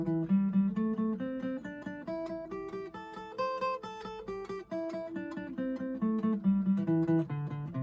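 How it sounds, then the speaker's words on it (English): An electric guitar plays a pentatonic scale two notes at a time, stepping steadily through paired notes in an even rhythm, clear and close with no talking. "Another way of playing is play 2 notes at the same time."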